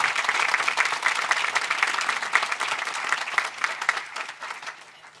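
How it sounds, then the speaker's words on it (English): Dense applause from a sizable crowd, including legislators, at a New York bill signing, steady and bright, gradually tapering off toward the end. "Let's give them another round of applause."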